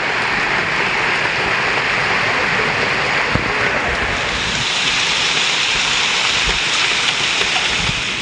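Heavy rain pours steadily over flooded city streets in Madurai, a dense continuous hiss with scattered splashes and faint thuds, no voices.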